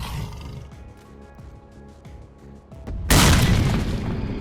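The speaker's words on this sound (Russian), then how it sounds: "Давай, топни, я кину тебе гранату." A grenade goes off in the STALKER game mod Ушедшая Душа, a sudden loud, broad boom and roar that bursts in late and keeps rumbling over a steady low game ambience, with no talking.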